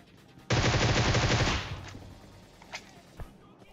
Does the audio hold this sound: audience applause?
no